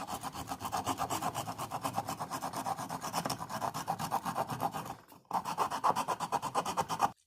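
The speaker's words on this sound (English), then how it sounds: "we're going to take sandpaper and finish smoothing it out" Sandpaper rubbed inside a carved wooden bowl makes rapid, rhythmic scratchy strokes, close and steady, pausing briefly near the end before resuming, with no talking.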